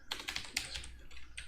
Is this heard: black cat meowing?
no